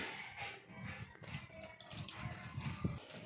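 Water poured into a bowl of squeezed tamarind pulp: a soft, close splashing and gurgling pour with small sloshes, fairly quiet and continuous for a few seconds, no talking.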